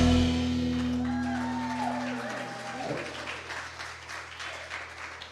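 Applause for the band at a Sunday celebration service in Cape Coral, a crowd clapping under fading sustained music, the clapping continuing steadily and moderately loud to the end.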